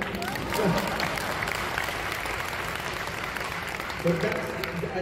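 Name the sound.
audience applause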